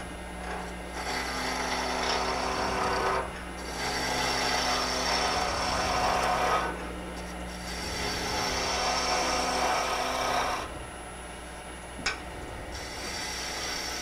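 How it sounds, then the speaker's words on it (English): Wood spinning on a lathe while a deep fluted bowl gouge cuts it, a steady broadband shearing roar in long sustained passes separated by brief pauses, with the motor's hum running underneath. "I'm going to get a deep fluted gouge here, commonly referred to as a bowl gouge"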